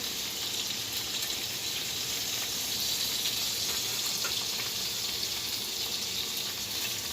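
Meatballs sizzling in a frying pan on the stove, a steady, even hiss of hot fat crackling continuously without pause, close and moderately loud.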